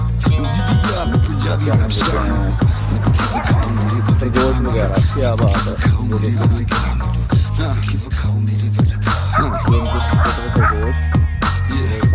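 Two dogs, one small and one big, bark and yip repeatedly in close, loud bursts, along with some whimpering, and someone talks over them.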